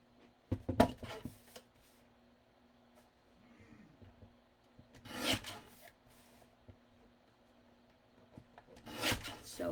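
Card stock being trimmed by about a quarter inch along the sides for a handmade stained glass panel card, heard as three separate scraping, rasping cuts at the start, middle and end, close and fairly loud against quiet room tone.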